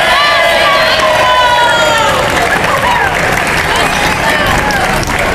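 An audience of students, teachers and parents at a school motivation event applauds loudly and steadily. Excited shouting and cheering voices blend into a dense crowd roar.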